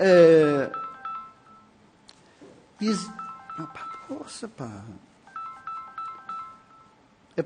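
A new mobile phone sounds repeated keypad tones: short, clipped electronic beeps in quick bursts under a man's speech and movement noise in a meeting room.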